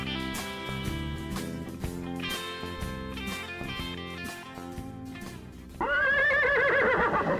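A horse gives a loud, wavering whinny near the end, right after a stretch of steady music, for a segment on Western horse training.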